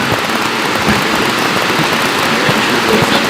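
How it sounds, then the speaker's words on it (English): Rain falls steadily at Farmington during an outdoor high school quiz broadcast, a dense, even hiss with scattered patters that holds at a constant loud level with no voices. "I don't know if the radio audience can hear the rain now here at Farmington."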